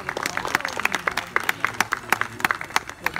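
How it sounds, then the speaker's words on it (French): Scattered clapping from an audience at a sea lion show in an African safari park near Toulouse, France: a sparse, uneven patter of individual claps for about three seconds, with faint talk and background noise underneath. "vous pouvez l'applaudir"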